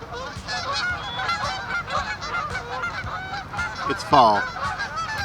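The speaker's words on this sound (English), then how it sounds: "Is it the honking geese?" Geese honk loudly and repeatedly nearby, a raucous flock with one sharp burst near the end; a person speaks briefly.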